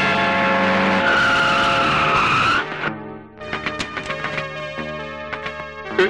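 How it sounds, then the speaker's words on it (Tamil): A vehicle stops abruptly with a loud, sustained tire screech lasting a couple of seconds, followed by the engine idling and rumbling close by with small knocks and bumps. "டிரைவர் வண்டி நிறுத்து."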